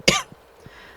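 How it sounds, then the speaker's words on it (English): A single sharp cough from a person still recovering from illness, loud and close, followed by a couple of soft breaths. "I'm still freaking coughing"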